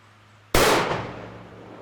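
A single loud rifle shot from a 350 Legend straight-wall cartridge cracks sharply out of a quiet background, its booming report rolling off over the next second.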